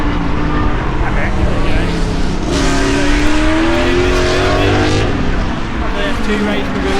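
A Porsche 911 laps the Silverstone circuit with a loud, close engine drone inside the car, its pitch rising and falling through gear changes, while people talk over it.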